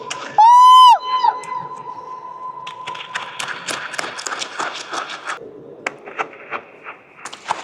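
Inside the vast Gol Gumbaz dome at Bijapur, one short loud shout bursts out and its tone hangs on in a long ringing echo for a couple of seconds, followed by a busy wash of crowd chatter and scattered sharp knocks.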